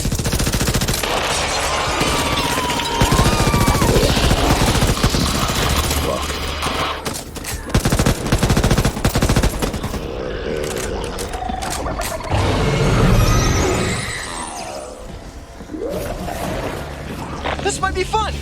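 Gunfire in the Back 4 Blood video game, rapid bursts of shots and automatic fire in dense volleys with brief lulls, alongside in-game voices talking.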